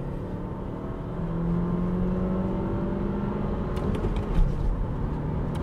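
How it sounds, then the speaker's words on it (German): Nissan Qashqai (2021) accelerating hard on the road, a steady engine drone with rising harmonic tones as it builds speed, heard from inside the cabin over continuous road and wind noise. "Und jetzt beschleunigen wir einmal noch durch."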